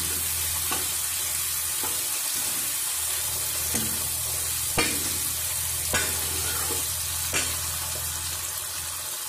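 Tinda curry with tomatoes frying in a pan, a steady soft sizzle under repeated spoon scrapes and stirring knocks at irregular intervals, close and moderately quiet with no voices.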